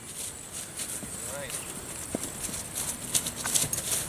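Hooves of a young racehorse under a rider give scattered soft clip-clop footfalls at a walk, faint and uneven, while someone talks over them.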